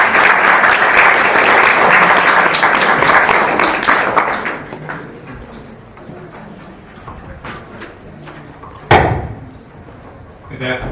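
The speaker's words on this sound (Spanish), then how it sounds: "Recibamos con nosotros al Dr. Darrow Miller con un aplauso" Audience in Santiago, Chile applauding to welcome Dr. Darrow Miller, loud, dense clapping that fades after a few seconds into scattered claps, followed later by a sharp knock and more isolated claps.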